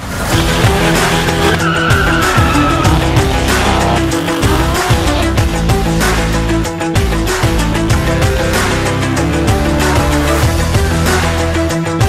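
Cars skid with sustained tire squeal and revving engines at a street race in Živinice, loud and close throughout with no talking.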